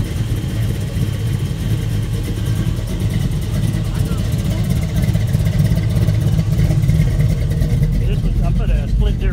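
A big block 396 V8 pickup truck with a split-duration hydraulic cam idles and revs loudly and steadily nearby, a deep lumpy rumble that persists throughout.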